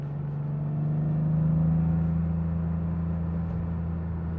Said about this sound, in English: we can just gently let the car warm up. We're now getting some temperature in the oil.